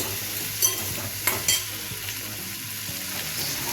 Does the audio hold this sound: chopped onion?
yes